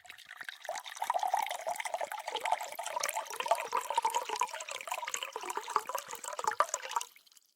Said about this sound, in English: He began to pour the drinks.